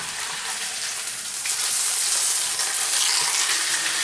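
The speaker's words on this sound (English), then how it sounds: "Now I'm going to flip it and see how the sear looks." A steak sears hard in a hot pan, giving a loud, dense sizzle that swells as the meat is flipped and then stays strong and close.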